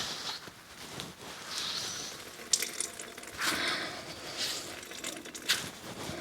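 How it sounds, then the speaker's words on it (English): Water being wrung out of shredded potatoes by twisting, a faint intermittent trickling and splashing into a sink with soft rustles, close and quiet. "It's amazing how much water you can get out of these."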